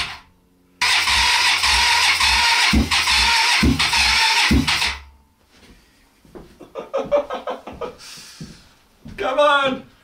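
A mini crotch rocket motorcycle engine cranks over loudly and runs unevenly for several seconds, then cuts out, followed by a person talking and more faint mechanical clicks.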